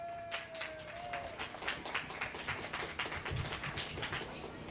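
Audience applause at the Appalachian Trail Festival in Millinocket, Maine: a dense, steady clatter of many hands clapping that fills the whole stretch at even loudness, with no voices on top.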